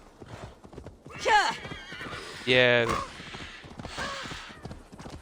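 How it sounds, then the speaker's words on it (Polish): A horse in the video game Assassin's Creed Valhalla gives two loud, close neighs between steady hoofbeat clip-clop, with someone talking throughout. "skakuj na konia, Eivor, i lecimy"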